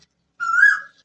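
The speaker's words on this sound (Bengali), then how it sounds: "সুন্দর পাখিতে ডাকছে, কোকিল পাখি মিষ্টি সুরে ডাকাডাকি করছে।" An Asian koel calls once from a banyan tree, a single clear rising whistle, close and alone against silence.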